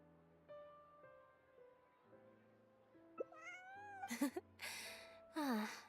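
A cat meows a few times in Genshin Impact, its short rising and falling cries sitting over a soft sustained game music bed, with a brief breathy sound between the meows.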